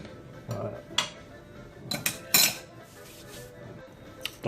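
A fork and spoon clinking against a saucepan while handling biscuits soaked in hot milk for a Carambar tiramisu, giving scattered light metallic taps and scrapes, close and fairly quiet.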